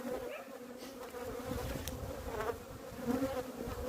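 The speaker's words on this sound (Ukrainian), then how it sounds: "бджола почала напад, почула мед" Dense, steady buzzing of many honeybees swarming close by, a continuous droning hum with individual bees passing nearer now and then.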